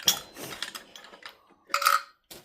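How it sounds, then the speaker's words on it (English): Alternator being pulled off a Talbot Express engine during a rebuild, with short metallic clanks and scraping knocks in an irregular sequence, close and fairly loud. "And off comes the alternator."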